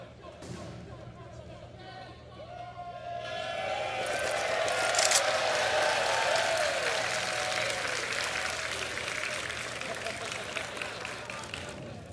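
Applause and cheering swell from a large crowd at a Counter-Strike esports match between OG and Entropiq, rising to a sustained roar and then holding steady, with commentators talking over it.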